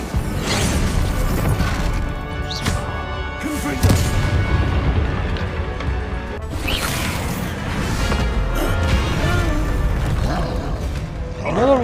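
Confringo spell blasts and impacts in the video game Hogwarts Legacy, booming crashes and whooshes repeating through a dense, loud battle mix with game music and occasional voices underneath.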